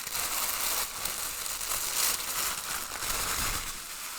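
Greaseproof paper rustles and crinkles continuously as a package is unwrapped, a close, steady crackling texture without pause.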